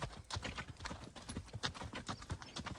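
A horse walks with a lively, even gait, its hooves clip-clopping in a quick, regular rhythm that stays close and fairly quiet throughout.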